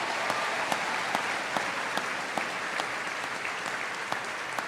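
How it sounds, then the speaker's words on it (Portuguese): A church congregation applauds during a sermon, a continuous, fairly dense clapping with a few sharper individual claps standing out near the front, steady throughout and free of speech. "Pode aplaudir, pode aplaudir."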